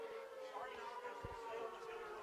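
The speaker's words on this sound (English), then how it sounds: "Here come those sirens again." A wailing siren sounds in the distance at a high school football game, its steady tone drifting over low crowd noise and scattered thumps.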